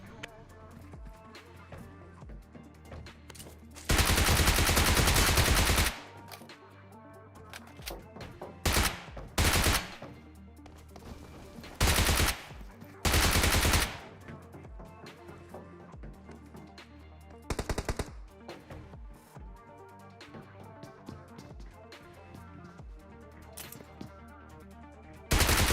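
Gunfire in the battle royale game PUBG Mobile comes in loud, sustained automatic bursts and shorter volleys, separated by quieter stretches of game ambience.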